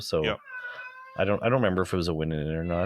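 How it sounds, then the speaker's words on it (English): A pet cat lets out a loud, wavering meow in a brief pause between stretches of close conversational speech, which dominates the rest of the moment. "Yeah, that's my cat."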